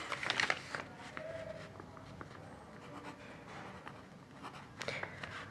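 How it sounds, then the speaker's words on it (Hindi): Pen scratching across paper on a teacher's desk during a class 10 English lesson, a few quick strokes near the start and again near the end, soft and close, with quiet room noise between. "तो हम लिख देंगे अनिल"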